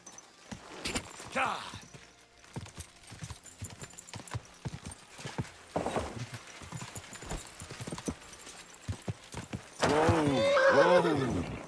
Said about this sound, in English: Oh, that looks like a bloody expensive horse.